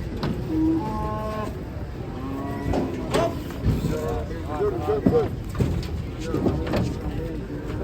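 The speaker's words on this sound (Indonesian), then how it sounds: "Iya, kedatangan sapi ini guys." Cattle arriving at a farm low and moo several times in drawn-out calls, close and fairly loud, among background chatter and people talking.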